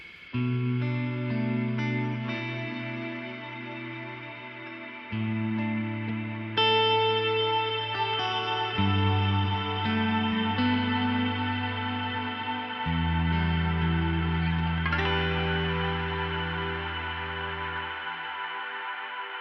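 A guitar plays slow sustained chords through a Strymon BigSky MX reverb pedal, each chord blooming and lingering in a wide, shimmering wash before the next one.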